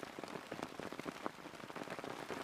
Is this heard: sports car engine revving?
no